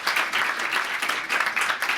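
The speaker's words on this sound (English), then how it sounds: "Can we get a round of applause for him?" An audience applauds a guest speaker at a LinkedIn speaker series event, with dense, steady clapping that holds at an even level for the full two seconds and no voices over it.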